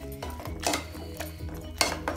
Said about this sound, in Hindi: इसमें मक्के का आटा डाल लेंगे, अच्छा से भून लेंगे।